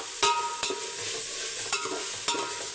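Tomatoes sautéing for chicken biryani in a pan, a steady soft sizzle broken by several sharp scraping strokes of a spatula at irregular intervals, close and moderately quiet, with no talking.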